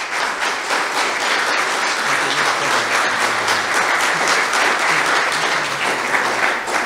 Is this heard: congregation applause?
yes